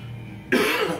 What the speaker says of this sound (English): Pardon me, I still got the cough.